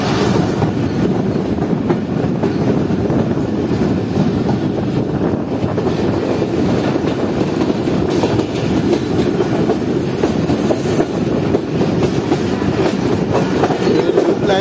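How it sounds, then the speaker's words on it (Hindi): Pak Business Express pulling into Kot Lakhpat railway station near Lahore, a steady, loud rumble of rolling rail cars with faint clatter and wind buffeting, heard from aboard the train, no voices. "ट्रेन हमारी जो है वो पहुंच रही है कोट लखपत रेलवे स्टेशन पर"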